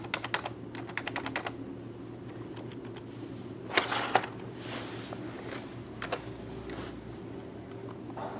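Keys are pressed on a computer keyboard at an Acer Aspire TC-705 desktop's startup, with quick clusters of light clicks and taps spread over a quiet hum.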